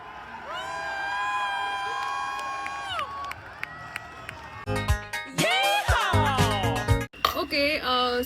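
Huge celebrating crowd packed along Marine Drive in Bombay, a loud dense roar of cheering, whoops and shouting with horns and whistles rising over the din, close and continuous throughout.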